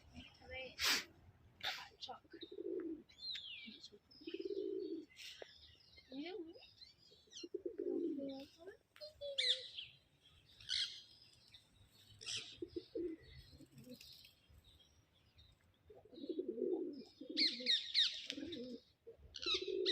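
Pigeons coo in soft, low, repeated phrases close by, mixed with higher chirps and a brief flutter of wings, while people talk quietly at times between the calls.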